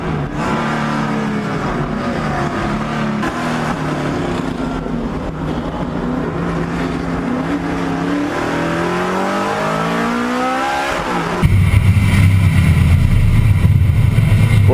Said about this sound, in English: Ford Mustang Boss 302, a popular car in this class.